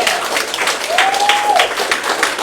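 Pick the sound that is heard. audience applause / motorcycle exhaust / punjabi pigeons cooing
audience applause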